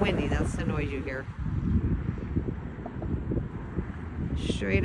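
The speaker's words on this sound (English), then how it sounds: "It's windy. That's the noise you hear." Wind gusting and buffeting against the microphone in a low rumble beside a lake at Gateway Park, Tawas City, with people talking over it at the start and end.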